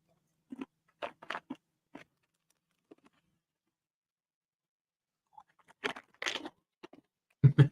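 Hot and spicy plantain chips crunched between the teeth in a series of sharp, close bites and chews, in two bursts separated by a silent pause, aboard a boat.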